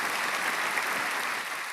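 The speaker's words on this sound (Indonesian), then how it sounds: "Berikan tepuk tangan kita untuk Tuhan kita." A church congregation breaks into steady, dense applause during a sermon. The clapping is brief and even throughout.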